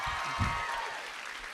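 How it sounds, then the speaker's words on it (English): Brief applause from the audience at a Stranger Things panel with the Duffer brothers at SCAD TVfest, a short burst of clapping from a crowd that fades quickly. "I don't know why people are applauding."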